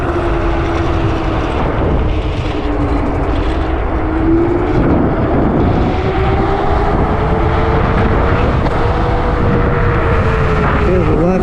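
A Yume X11+ electric scooter ridden at full speed, its motor whine and tire hum rising in pitch alongside a loud, steady rush of wind noise throughout.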